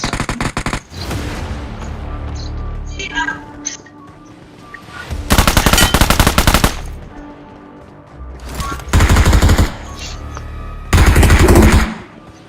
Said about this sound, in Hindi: उतने ही मुझे राइट से गोलियां चलने की आवाज आती है